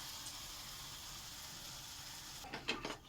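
Palm-fruit malpua batter fries in a pan with a soft, steady sizzle, then a few louder spoonfuls crackle and spatter near the end.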